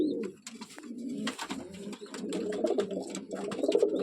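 Madras breeding pigeons in a loft coo in repeated throaty, rolling calls, several birds close together with overlapping cooing and light wing and movement sounds.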